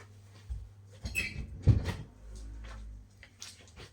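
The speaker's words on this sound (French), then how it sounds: "je vais juste fermer la porte" A door being shut indoors, with a few soft knocks, rattles and a muffled thud spread over several seconds, fairly faint against room noise.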